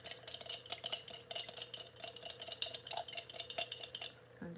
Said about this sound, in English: So I'm just gonna stir it.